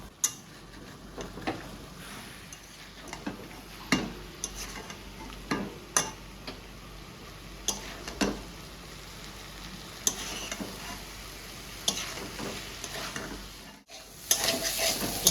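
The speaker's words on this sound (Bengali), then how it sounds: "সামান্য লবণ আর সামান্য হলুদ দিয়ে ওর জন্য মাছটা ভাজবো" Fish frying in a pan with a little salt and turmeric, a steady sizzle broken by repeated sharp clinks and scrapes of a utensil stirring, fairly close and with no talking.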